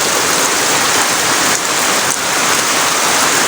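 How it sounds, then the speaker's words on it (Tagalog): Loud, dense downpour of heavy rain, a steady roaring hiss with no letup, close by, with rain getting inside the shelter. "Pumapasok na dito yung ulan sa loob namin oh. Yung sobrang lakas."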